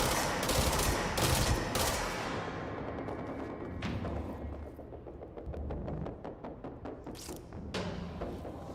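Rapid gunfire bursts and thumping shots from the shooter video game C-Control, loud and continuous, with dense rattling volleys and a few heavier booms, no voices.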